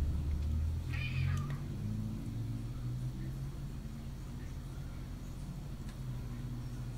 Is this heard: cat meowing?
yes